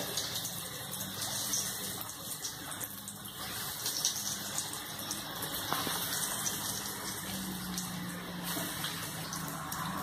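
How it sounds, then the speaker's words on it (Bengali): Egg devils lowered one by one into hot oil on a low gas flame, sending up a continuous loud bubbling sizzle that holds steady throughout with no talking. "এবার গ্যাসটা একটু আস্তে দিয়ে আমি এগুলো আস্তে আস্তে করে ছেড়ে দিচ্ছি।"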